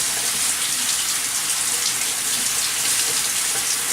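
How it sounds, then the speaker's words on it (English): Water runs steadily from a kitchen tap as hands are rinsed after handling raw ground beef, a constant close hiss and splash with no talking. "I'm rinsing my hands off"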